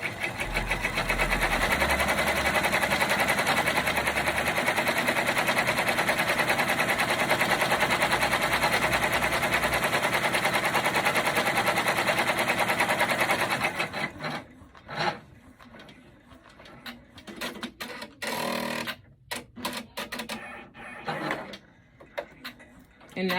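Computerized embroidery machine stitching a red collar on an in-the-hoop bag, a dense continuous whirring rattle for about fourteen seconds, then stopping into quieter scattered clicks and handling sounds.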